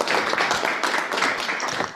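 An audience at an investment pitch session claps in a steady burst of applause, moderately close and continuous for a couple of seconds.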